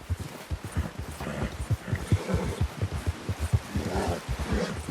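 Horse rearing in Red Dead Redemption 2, a steady run of hoof clip-clops with dull thuds and snorting breaths, fairly close and moderately loud, no talk over it.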